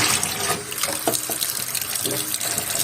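Tap water runs steadily into a sink while salted fish (bassaria or malouha) is rinsed, a continuous close splashing stream with no pauses.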